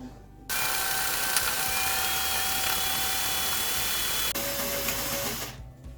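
A pedal-operated sewing machine stitches through the layered backing, batting and top of a quilt, running in one loud, continuous whir for several seconds before stopping.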